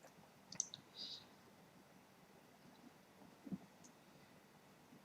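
A couple of faint, sharp computer mouse clicks on an update button, close to the microphone, in a quiet room with no talking.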